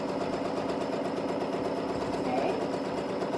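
A sewing machine stitches a quilt in a steady rapid whirr of needle strokes, running evenly and moderately close throughout the short stretch.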